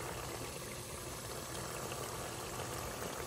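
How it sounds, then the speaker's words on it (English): Meat fries in a pot for ayamase stew, giving a steady, quiet sizzle and bubbling hiss that holds evenly throughout with no talking. "Okay, let it fry."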